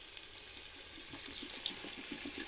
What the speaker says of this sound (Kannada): ನೀರು ಸ್ವಲ್ಪ ನೀರು ಹಾಕೋಣ.